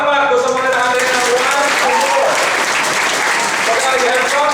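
Loud, sustained applause from a seminar audience at a leadership training session, steady clapping filling the room for several seconds with voices mixed in.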